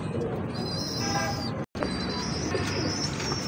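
Golden pigeons, a prize lot of long-feathered birds, coo and chirp close by in a steady stream of soft calls, with a brief gap midway and no talk over them.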